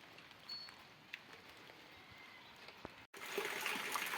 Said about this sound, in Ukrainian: Який гарний іде дощ.